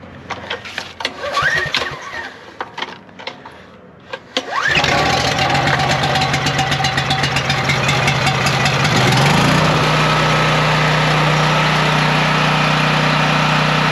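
Vehicle engine stored with fuel stabilizer cranking briefly, then firing up and settling into a loud, steady idle, close by with no talk.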